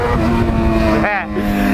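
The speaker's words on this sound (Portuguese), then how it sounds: "lombada a moto chega a pular pra cima" A rider's first motorcycle hums steadily with a close engine drone as it rolls over a speed bump, the tone dipping briefly midway while a voice talks over it.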